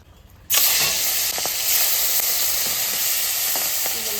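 Large prawns hit hot oil in a pan and start sizzling loudly all at once, a steady crackling fry with occasional spatters and stirring noises continuing to the end.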